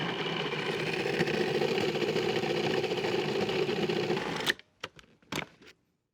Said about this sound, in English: When you blend it up, this will make a super creamy texture, just like ice cream. Just pulse it up until smooth.